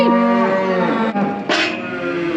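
Cows and calves moo loudly nearby, one long low call followed by another overlapping bellow, with no talking.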